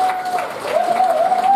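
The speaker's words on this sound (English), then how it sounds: "Give you guys a round of applause coming out here to Blue Note supporting comedy." Applause from a comedy-club audience at the Blue Note fills the short stretch as a steady, dense wash of clapping with faint crowd noise, and a thin sustained tone runs beneath it throughout.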